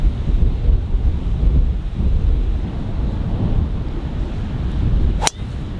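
Strong wind buffeting the microphone on a golf course during a four-man scramble tournament, a steady loud roar with a brief sharp knock near the end and no talk.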